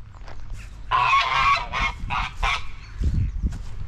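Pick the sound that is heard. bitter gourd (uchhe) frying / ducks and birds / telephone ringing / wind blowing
ducks and birds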